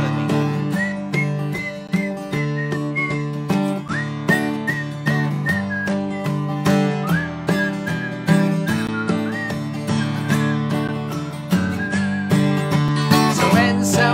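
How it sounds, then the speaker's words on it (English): Several people whistle a bright melody together over a full musical accompaniment at a family concert, the whistled line weaving steadily above the instruments throughout. "See if you can whistle at me."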